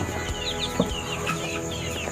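Free-range village chickens in a backyard coop, kept alongside Muscovy ducks. Soft, scattered clucks and small chirps sit over a quiet, steady outdoor background with insect hum and no talking.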